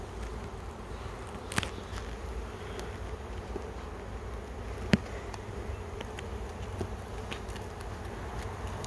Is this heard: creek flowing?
no